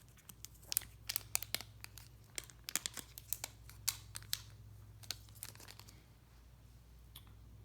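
Crinkling and tearing of the thin plastic covering peeled off a Fitbit Inspire 2 fitness tracker, a quick series of sharp crackles and rustles, close and fairly quiet over a low background hum.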